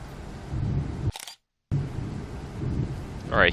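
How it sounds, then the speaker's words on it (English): Rolling thunder rumbles low and heavy through a rainy storm scene in Train Sim World 3, breaking off briefly into silence before resuming, with a rising whooshing sweep at the end. "Alright, hear thunder,"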